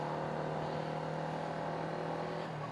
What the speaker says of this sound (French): Là par contre on entend bien l'échappement, hein, ça le GPR, c'est vraiment un super beau bruit.